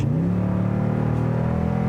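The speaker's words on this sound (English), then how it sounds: "when you put your foot down has a really nice sounding nasty V8 exhaust grumble" A 2021 Toyota Tundra TRD Pro Double Cab's V8 rumbles through its TRD-tuned sport exhaust, a deep, loud, steady grumble that swells briefly as the throttle opens, close and alone.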